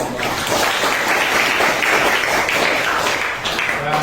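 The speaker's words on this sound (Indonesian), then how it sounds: "Kita berikan tepuk tangan untuk kelompok." A classroom group claps for a student presentation group at a teacher performance exam at an Islamic university, loud dense applause sustained throughout with a slight dip near the end.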